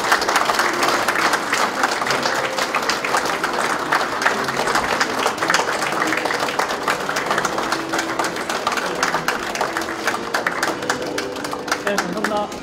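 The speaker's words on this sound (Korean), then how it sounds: "자, 박수 한 번만 쳐주십시오." An audience applauds steadily at a signboard unveiling ceremony for a software policy research institute. The clapping is loud and continuous for the whole span, with a host's voice faintly under it.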